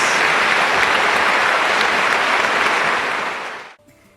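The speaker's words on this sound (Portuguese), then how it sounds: "Ao Senhor Jesus, por esta palavra maravilhosa, uma grande salva de palmas." Loud, dense applause from a church congregation fills the space steadily, then cuts off abruptly near the end.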